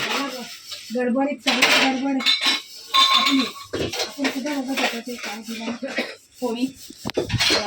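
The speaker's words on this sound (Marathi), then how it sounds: "मी या दोघी भांडी घासायला लागल्यात" Dishes, utensils and a chopper clatter and clink repeatedly, with running water and someone talking over the scrubbing noise.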